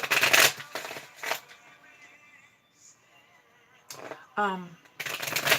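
Tarot cards shuffled by hand in short crisp riffling bursts, close and fairly loud, separated by quieter pauses with a little speech.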